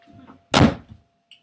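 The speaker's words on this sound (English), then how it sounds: "Close the door." An indoor door shuts with a single sharp, close thud, followed by a short faint rattle as it settles.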